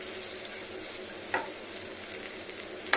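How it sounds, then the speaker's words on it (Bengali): Pieces of small rohu fish fry in hot oil in a pan, giving a steady, even sizzle with a couple of brief sharp pops, close and alone. "খুব সুন্দর করে ভাজতে হবে। এই মাছটা অন্যরকম, তাই রুই মাছ, কিন্তু খুব বড় নয়।"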